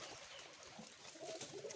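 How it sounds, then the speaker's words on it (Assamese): Pigeons on a farm give faint, soft coos against a low, quiet background, with no voices. "পাৰ চৰাই আছে"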